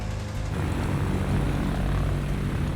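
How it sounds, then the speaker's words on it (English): Propeller engines of a Curtiss C-46 cargo plane drone steadily on a winter test flight in deep cold, a loud, continuous close roar with no breaks. "the backup C-46 isn't winter ready"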